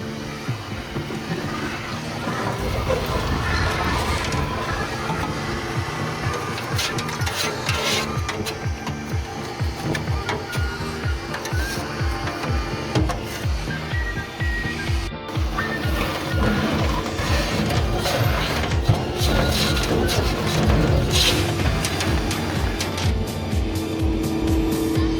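A vacuum cleaner runs steadily for the whole stretch, cleaning out the small storage boxes of a new service truck bed before paint. Its roar is loud and continuous, with bumps and knocks as the nozzle moves around inside the compartments.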